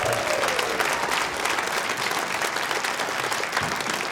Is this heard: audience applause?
yes